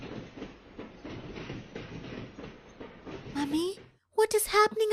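A train runs with a rhythmic clickety-clack of wheels over rail joints, steady and moderately close, before a voice starts speaking over the end.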